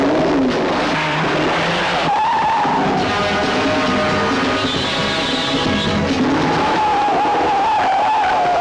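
Car tires skidding and squealing while the car is driven on three wheels as a stunt, the engine droning loud and close throughout with long, wavering tire screeches.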